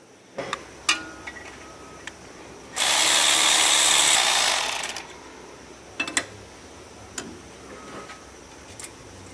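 A ratcheting 10 mm socket wrench removes a bracket bolt on a Ford Super Duty, clicking in short bursts, then spinning in a steady two-second whir before a few more scattered clicks close by.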